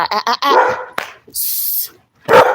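Several dogs at a pet sitter's bark and yip in quick bursts close by, with whimpering sounds and a hushing hiss between the barks.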